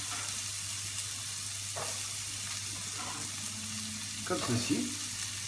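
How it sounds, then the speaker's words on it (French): Chopped onion frying in a saucepan for a beef puff pastry filling, with a steady low sizzle and a few soft stirring scrapes, and a brief voice speaking near the end. "je fais revenir mon oignon"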